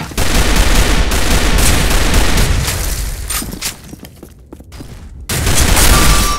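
Heavy gunfire from the online shooter Arctic Combat, loud dense bursts of rapid shots for about four seconds, a brief lull, then another close burst of firing at the end.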